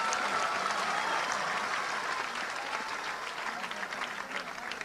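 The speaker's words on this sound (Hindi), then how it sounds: "तो तालियां भी इसमें इस पूरे सभागार हॉल में" Sustained applause fills an auditorium hall at a political gathering in Uttar Pradesh, a dense, steady clapping from a large crowd that holds at full strength for the whole stretch with no voices standing out.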